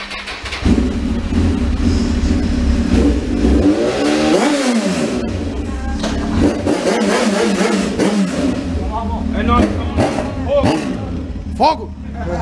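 A heavy motorcycle engine revs hard on a ride, rising and falling in pitch with rough, throaty surges, heard close up through strong wind rumble, with people talking over it.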